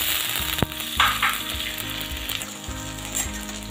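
Peas added to cauliflower frying in a pan on a gas flame, a loud close sizzle with scraping stirs and a sharp burst as they hit the oil, then settling into steady crackling.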